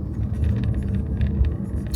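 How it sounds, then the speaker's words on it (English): A big old dump truck rumbles past on the road, a steady, loud, low-pitched engine drone holding throughout with no talk over it. "Big old dump truck crossing over the line."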